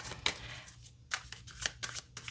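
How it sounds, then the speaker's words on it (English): A Golden Art Nouveau Tarot deck is shuffled by hand in several quick riffling bursts with brief pauses between them, close and crisp against a quiet background. "Let me give it a little bit more of a shuffle, then I'll cut the deck"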